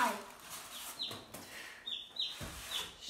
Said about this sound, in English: Today we're moving chickens.